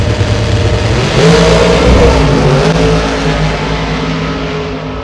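A drag racing car's engine revs hard at Gainesville, with the driver working on and off the throttle. The engine roars loud and close, wavering between surges and slight easing, and no one talks.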